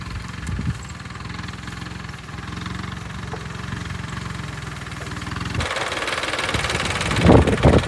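A tractor engine idles and runs steadily nearby while being used to tow a stuck tempo, a continuous low rumble with knocking vibration that swells slightly toward the end.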